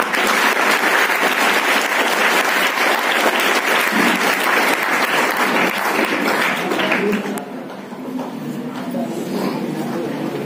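An audience at an Urdu school's Reading Day celebration in Bhusawal applauds loudly and steadily, then the clapping drops off to a quieter scattered patter with some voices.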